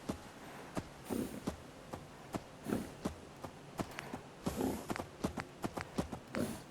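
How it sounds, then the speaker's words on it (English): Cow walking in Fallout 4, producing a steady run of faint hoof clops on the ground in an even plodding rhythm, quiet and somewhat distant against soft ambient noise. "Is that cow going to walk incessantly?"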